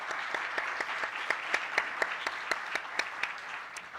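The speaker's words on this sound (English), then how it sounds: "maybe we could give the judges a round of applause for being here" An audience claps for the judges at a regional startup pitch competition, a steady round of applause of many hands at moderate loudness with no talking over it.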